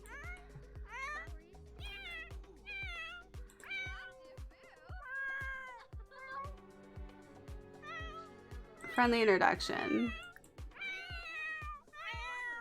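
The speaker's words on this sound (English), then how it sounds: "I was like, where am I hearing cats?" Several cats in The Sims, including a Persian, meow in a chorus of repeated, overlapping high mews with one louder yowl midway, while a person speaks briefly.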